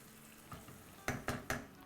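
Cream is stirred into butter chicken sauce in a pan on a stove over medium-low heat. A soft scrape comes first, then three sharp spoon knocks against the pan in quick succession.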